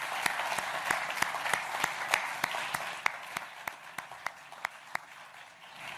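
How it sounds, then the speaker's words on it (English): A small outdoor audience at a groundbreaking ceremony for an Asahi Kasei facility in Port Colborne, Ontario, claps in sparse, distinct, fairly regular strokes, about fifteen crisp claps heard faintly from a short distance. "the biggest round of applause we need to give it to all the workers who are going to transform this"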